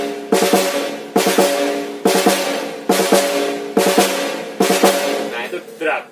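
Drag rudiments are played on a drum kit during a lesson on a song: six evenly spaced hits, each opened by quick grace-note strokes, ring out loud and close, with no talk over them.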